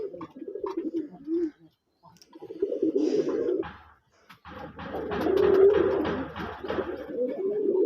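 A male red-headed white Raj Golla pigeon cooing close by in bursts of rolling, throaty coos, with short silent breaks and some rustling and handling noise during the louder final stretch.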